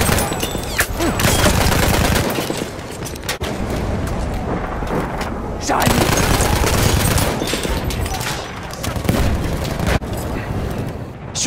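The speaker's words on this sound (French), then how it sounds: "J'ai une mitrailleuse." Dense, loud machine gun fire in a Battlefield 1 battle at a factory in Ribeyrolles, 1918. Sustained bursts mix with booms across the whole stretch, and voices talk faintly underneath.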